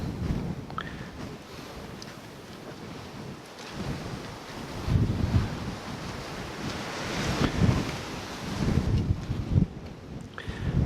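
Strong wind gusts across a clifftop above the ocean, buffeting the microphone in rumbling surges that swell and fade, with distant surf underneath and no talk.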